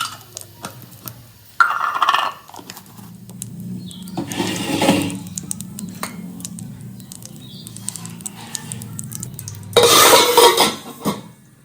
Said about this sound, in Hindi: तेल गरम हो चुका है, उसमें डाल देते हैं जीरा और हींग